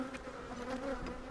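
Honey bees hum in a close, continuous buzz, a low droning swarm sound that wavers slightly in pitch throughout the short stretch.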